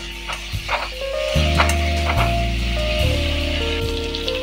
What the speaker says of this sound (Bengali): এবারে আমি আলুগুলোকে একটু লাল লাল করে ভেজে নেব।